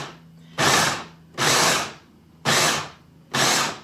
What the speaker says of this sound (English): I've got most of the meat in here ground up, and I've got a little bit left to grind.